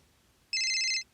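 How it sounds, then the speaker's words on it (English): A phone ringtone chirps once in a short electronic burst of about half a second, clear and close against a quiet background. "Oh, my phone's ringing."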